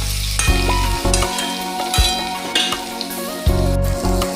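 Cubed eggplant and potato sizzle steadily in hot oil, with a spatula stirring and scraping the pan in repeated strokes roughly every second, close and loud, with no talking.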